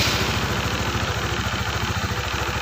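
Honda CBR 150R motorcycle engine idling with a fast, even low-pitched putter that holds steady and close, moderately loud with no talking; an engine start is not evident.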